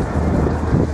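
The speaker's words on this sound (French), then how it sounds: "Un petit peu de vent." A light, warm outdoor wind in Las Vegas roars steadily across the microphone for a brief moment, with no voices.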